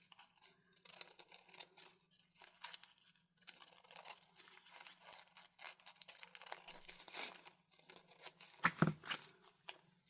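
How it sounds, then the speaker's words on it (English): Scissors snip and crinkle through thin tissue paper in a series of quiet, irregular cuts and rustles, close by. "I'm going to use scissors to just cut across here"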